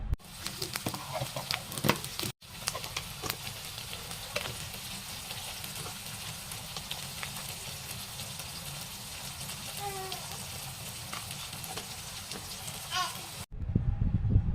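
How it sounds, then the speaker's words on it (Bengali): Ginger-garlic paste with chilli powder, turmeric and salt fries in a pan, a steady soft sizzle running throughout with occasional stirring scrapes and faint background voices. "আদা রসুন বাটা দিয়ে দিলাম, ঝালের গুঁড়ো, হলুদ গুঁড়ো, লবণ দিয়ে ভালো করে মশলাটাকে কষিয়ে নিলাম।"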